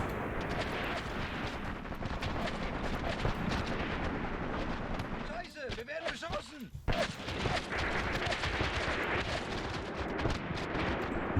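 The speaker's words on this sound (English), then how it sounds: "Got a mortar in the background as well" Mortar fire and a dense battlefield din in Graviteam Tactics, a continuous rumble of blasts and gunfire with a short lull partway, and someone talking over it throughout.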